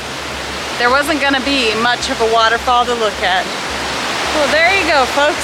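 Multnomah Falls roars as a steady, broad rush of falling water during a summer heat wave, loud and constant beneath someone speaking a few words.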